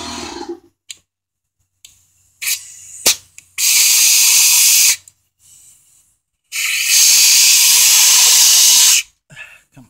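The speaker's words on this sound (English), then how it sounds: "Air coming out of the exhaust" Compressed air hisses out of an engine's exhaust during a leakdown test: two long, loud, steady bursts of several seconds each, separated by silence, with shorter puffs and clicks around them.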